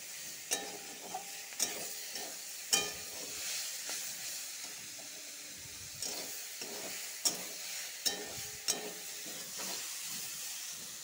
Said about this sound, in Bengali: এটার সাথে একটু ভাজা ভাজা করব।